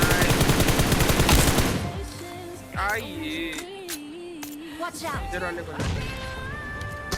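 Gunfire in a shooting video game, with a dense, rapid burst of shots up front, then scattered sharper shots and game effects over a tonal background.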